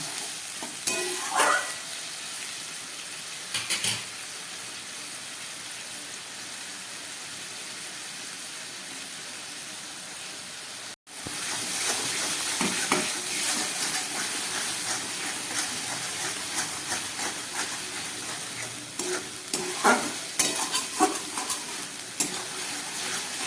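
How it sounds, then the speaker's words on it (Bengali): Spice paste with chopped tomato stir-fried in a pan for a rita and tangra fish curry, a steady sizzle and hiss with scraping spatula strokes, briefly cut off near the middle and then resuming. "ভালো করে এবার মশলাটাকে আমি কষিয়ে নেব"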